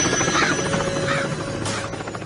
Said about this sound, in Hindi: अपने गांव में हेलीकॉप्टर क्यों आया है?